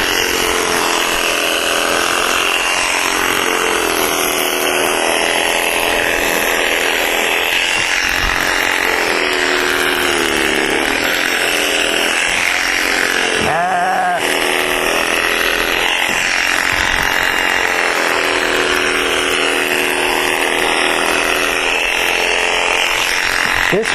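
Electric sheep-shearing handpiece buzzing continuously while cutting a sheep's wool using the long blow method, a steady close motor whine with slight shifts in pitch as the strokes change, and no voices.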